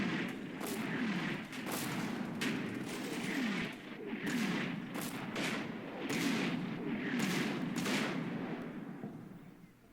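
In the Combat Mission SF2 video game, an 81mm and 60mm mortar barrage mixes with Bradley autocannon fire and Abrams HE rounds: repeated heavy thumps and sharp cracking shots, dense and rhythmic over a rumbling background.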